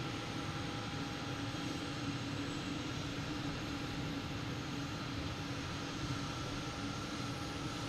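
A Swiss airliner at Boston Logan airport produces a steady broadband engine roar, continuous and even throughout with no talk.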